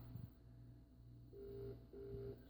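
A desk phone on a 3CX phone system rings in repeated electronic bursts, fairly quiet and steady against a low background hum.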